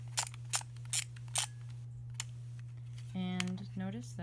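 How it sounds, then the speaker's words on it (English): A Vivitar IC101 film camera being handled, with a series of sharp, close mechanical clicks from the shutter and film advance spaced under a second apart, followed by a brief tonal beep-like sound. "So it says to shoot twice."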